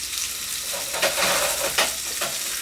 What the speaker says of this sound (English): you know that your oil is ready when you hear that sizzle